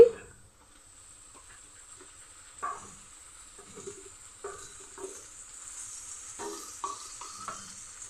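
Small shrimp and onions sizzle in a pan for a stuffed pointed gourd recipe, a faint steady hiss broken by occasional louder stirring scrapes and spatters, with no one talking.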